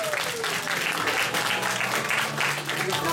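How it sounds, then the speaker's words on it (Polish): Loud, sustained applause from a talent-show audience fills the whole stretch, dense clapping with a faint crowd murmur underneath. "I wielkie brawa!"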